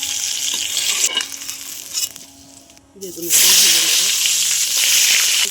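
Tilapia fish fry in oil in a kadai with a loud, close sizzle that drops away briefly in the middle, where a voice speaks, then surges back strongly.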